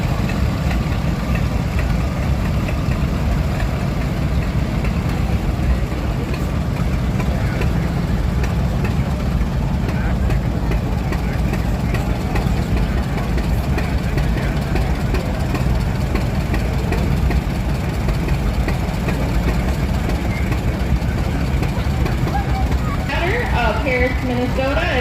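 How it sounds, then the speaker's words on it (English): Vintage tractor engines, among them a 1950 John Deere A, idle with a dense, continuous low rumble in a threshing show parade in Minnesota, while a public-address voice announces the entrants over the steady engine noise. "it is Reese Graham driving a 1950 John Deere A"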